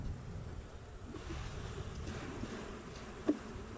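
Honey bees buzz faintly and steadily around an open hive during an inspection of 26 colonies affected by chalkbrood, with a soft background hum and one brief tap near the end.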